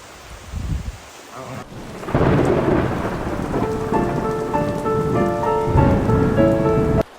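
Heavy rain pours steadily with rolling thunder, loud and close, while a tonal music bed plays underneath through most of the stretch.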